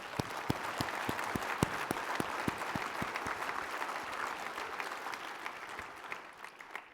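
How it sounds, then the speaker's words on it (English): Applause from an audience at the Bill Hale Road Hand Awards honoring county judges, a broad steady patter with a few distinct near claps beating rhythmically early on, then tapering off toward the end. "Join me in applauding for them."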